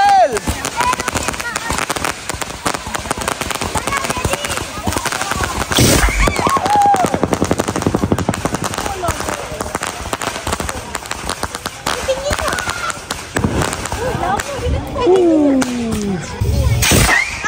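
Firecrackers set off during Hari Raya festivities crackle in dense, rapid bursts throughout, loud and close, with voices of people talking and calling among them.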